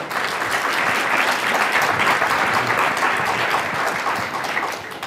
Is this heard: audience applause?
yes